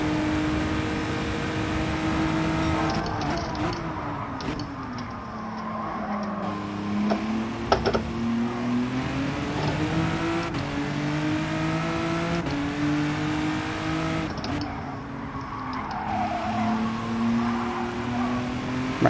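A race car engine in the Gran Turismo 7 video game drones continuously, its pitch rising and falling through gear changes and braking on track, with short whooshing bursts as cars pass and no voices heard.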